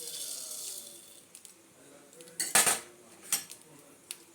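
Dry chana dal and coriander seeds tip into a pan for roasting while rasam powder is made, with a quick close rattle and clatter of grains and utensil clinks against a faint background hiss.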